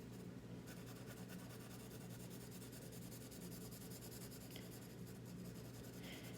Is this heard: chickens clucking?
no